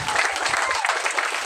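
Warm applause for the hosts and his wife at a village gathering in Kampung Langsat, Merotai, Tawau, Sabah, a steady burst of clapping from a crowd, fairly loud and even throughout, with no voices over it.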